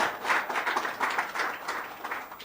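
Audience applause for the panelists at a business partnership summit, a steady wash of many hands clapping throughout with no talk over it.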